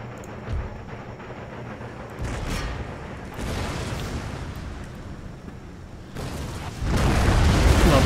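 Howitzer artillery firing in Empire: Total War, several booming discharges scattered across the span, with rumbling blasts and a louder burst of explosions near the end, no voices.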